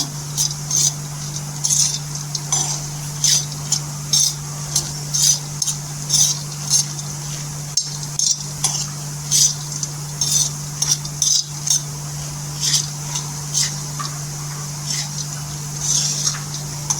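Dal is dry-roasted on a tava griddle and stirred, giving a steady run of light scraping and pattering taps over a constant low hum from the stove.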